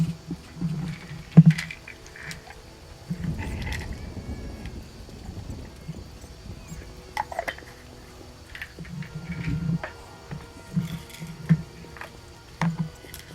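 Rain patters in a swampy area of The Witcher video game, soft scattered drops and splashes with a few sharper taps over a quiet ambient bed, no talking.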